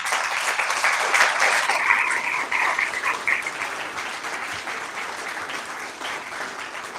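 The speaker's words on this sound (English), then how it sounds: "A round of applause for everybody that came" Sustained applause from a crowd, steady clapping that swells early and then tapers off gradually.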